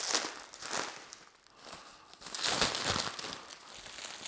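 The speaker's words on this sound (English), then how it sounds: "So let's unwrap the handle end." Plastic packaging crinkles and crumples as it is unwrapped from the handle of a Googan Squad fishing rod, close-up rustling bursts that swell, dip briefly, then return, with no talking.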